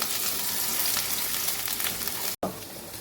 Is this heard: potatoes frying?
yes